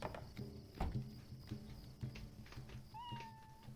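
Cats meowing inside the LOTRO video game, with a rising meow call near the end over a busy backdrop of game ambience and rhythmic clip-clop-like thumps.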